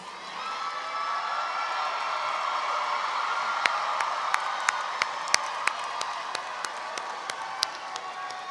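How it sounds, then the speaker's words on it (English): An audience at a fall commencement ceremony stands and applauds graduates' families, a broad sustained roar of clapping and cheering in a large hall, with a few sharp, distinct claps popping out near the end. "Please stand and applaud your families."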